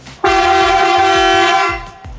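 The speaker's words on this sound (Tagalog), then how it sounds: "we have a switch here for the Marco truck horn" A Marco truck horn blares once in a loud, sustained multi-tone blast for about a second and a half, then cuts off, with a low engine idle rumbling underneath.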